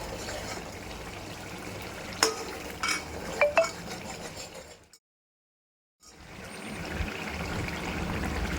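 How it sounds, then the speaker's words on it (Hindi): Masala being stir-fried in a pan for chhole, heard as close scraping and clinking of a spoon against the pan with a few sharp knocks, a brief silence midway, then steady stirring noise. "देखिए मसाले को मैं 5 से 7 मिनट हो गया भुनाई कर रही हूँ इसके अच्छे से।"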